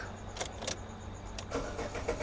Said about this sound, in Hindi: ये देखिए बहुत ही बढ़िया क्रैंक करने लगे क्रैंक